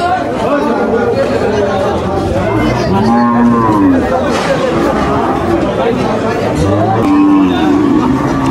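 Cattle, including a heifer calf, low and moo a few times amid a constant babble of crowd chatter and nearby voices at a noisy outdoor cattle market.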